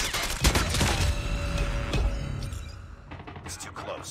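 A Call of Duty Mobile multiplayer match: rapid bursts of automatic gunfire and sharp shots come in clusters, loud and close, with a voice talking over the action.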